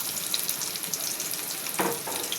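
Onion frying in hot oil with cumin and garlic paste, a steady close sizzle with a brief louder stir or splash near the end.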